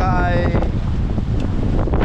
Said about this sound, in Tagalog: Sobrang lakas ng alon at saka hangin mga kabisig.